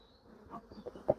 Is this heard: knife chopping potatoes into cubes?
no